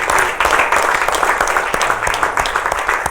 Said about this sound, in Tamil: ஒரு பெரிய கைத்தட்டல் கொடுத்தலாம் தந்தை அவர்களுக்கு